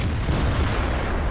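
An E-75 heavy tank's main cannon fires in World of Tanks, a deep low boom with a rumbling, sustained tail that fills the whole moment at steady loudness, no voices over it.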